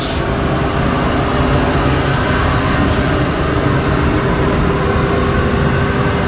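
C-130 aircraft with its massive engines of 4,700 horsepower each running, a loud, dense, steady roar that fills the whole clip, close and unbroken with no talking.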